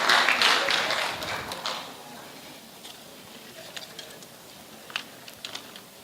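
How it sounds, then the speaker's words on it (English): An audience claps for students who have just presented a poem, loudest at first and then thinning to scattered, isolated claps in a quiet room. "Please clap for them."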